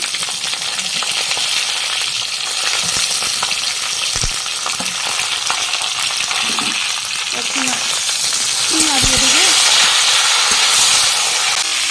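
Potatoes frying in hot oil with green chillies added, a steady loud sizzle and hiss throughout with occasional stirring clatter, no talk over it.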